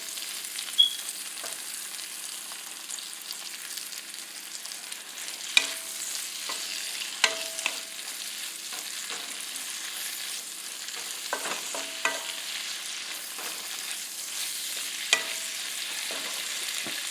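Pepper steak frying in sesame oil in a pan, with a constant close sizzle and scattered scraping and clinking as the meat is stirred, without speech.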